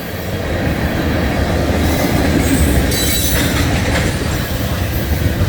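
A manifest mixed freight train rolls past close by with a steady, loud rumble of wheels and cars, with wheel squeal and rhythmic clacking throughout.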